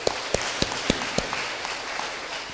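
A church congregation applauds in a dense wash of clapping, with several distinct louder claps standing out early before the applause thins and fades over a couple of seconds.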